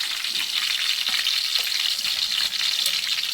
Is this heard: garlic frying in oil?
yes